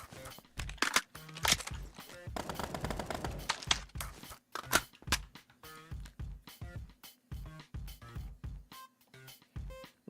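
Gunfire from a gun mod in Minecraft: a run of sharp shots in quick bursts, some rapid and automatic, others spaced out, close and punchy, with a faint tonal hum in the background.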